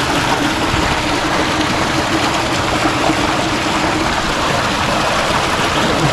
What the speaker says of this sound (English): Obviously it's just allowed to overflow straight through now.